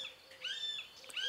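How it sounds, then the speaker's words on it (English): A seagull calls in the background, with several faint rising and falling squawks spread across the moment, and no talk over them. "Can you hear this seagull?"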